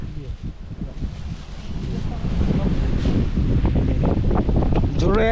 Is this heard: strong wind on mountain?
yes